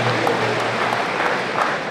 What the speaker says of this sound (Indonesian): Sila berikan tepuk tangan kepada mereka semua.